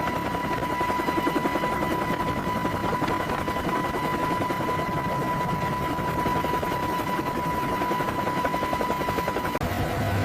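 Boeing AH-64 Apache helicopter descending for landing, a loud steady rotor and engine roar with a constant whine that continues evenly throughout, close and unbroken.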